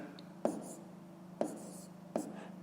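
Pen or pencil writing out a fifth-grade math solution by hand, three distinct scratchy strokes spaced about a second apart over a low steady hum, close and fairly quiet.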